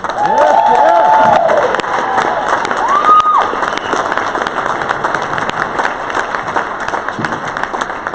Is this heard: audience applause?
yes